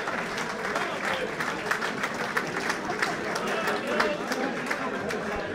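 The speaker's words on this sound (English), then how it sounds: "Some appreciative applause from the diners here at the Bristol Sporting Club" Steady applause from a room of diners at the Bristol Sporting Club during a boxing match, dense and continuous clapping from a crowd with a murmur of voices underneath, holding at an even level throughout.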